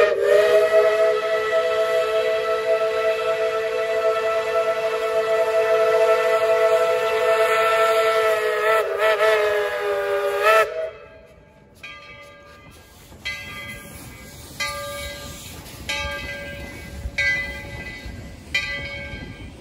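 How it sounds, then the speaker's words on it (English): Tweetsie Railroad steam train lets out a long, loud, steady whistle for about ten seconds, then the whistle cuts off and the engine keeps running with chuffing and clanking, plus a few short bell-like tones. "the train."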